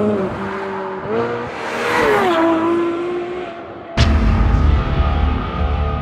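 Ferrari sports car engine accelerating on the road, rising and falling in pitch through gear changes, then a sharp jump in loudness as it pulls harder.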